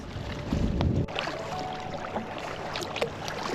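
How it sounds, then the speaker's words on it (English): A kayak paddles along the calm shore of Frost Island, with soft water splashes and paddle strokes over steady wind noise on the microphone. "We paddled up close to the shore of Frost Island where it was nice and calm."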